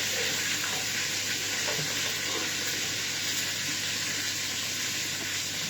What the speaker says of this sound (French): Je fais revenir mes oignons avec un peu de...